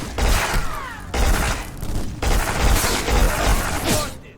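Submachine gun fire in the first-person shooter game Black, inside an asylum level: loud, dense bursts of rapid gunfire with booming impacts that repeat in several waves, close and continuous, with no voices.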